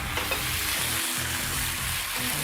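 A tablespoon of white wine sizzles and bubbles as it reduces in a hot pan while a sauce is started. The crackling sizzle is constant and close, with faint stirring scrapes and no talk.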